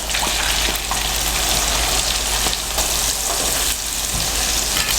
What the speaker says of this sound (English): So it's been frying in here for about 12, 13 minutes.